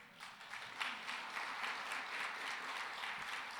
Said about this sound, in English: I think we must applaud that.